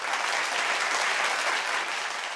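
Audience applause greets a sound-imitation artist coming onto the stage at a comedy show, a dense steady clapping that stays loud and close throughout without voices.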